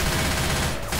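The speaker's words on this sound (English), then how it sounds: "Let's just kill them all with this machine gun real quick." Rapid, steady machine gun fire in Left 4 Dead 2, a loud and close continuous burst with no break.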